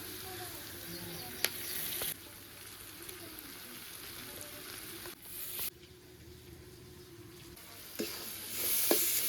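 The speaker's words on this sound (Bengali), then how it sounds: "আমি লাউটা দিয়ে দেব কড়াইয়ের ভিতর" Squeezed bottle gourd goes into a hot kadai with onions, giving a soft sizzle with faint bursts and scrapes that swell and drop, fairly quiet and close.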